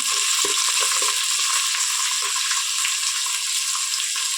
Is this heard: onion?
yes